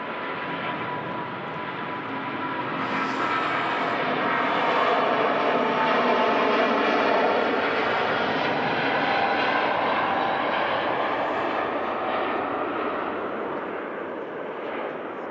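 Cathay Pacific Airbus A350-900 taking off from Manchester Airport, a loud, sustained broadband jet roar that swells over the middle of the run and slowly eases, with no voices.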